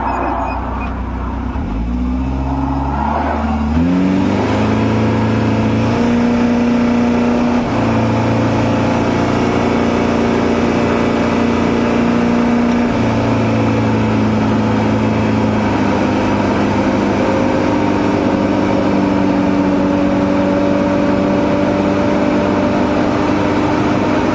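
A car drives at speed on a dual carriageway, its engine revving up through gear changes early on, then settling into a steady loud drone of engine and road noise for the rest of the stretch.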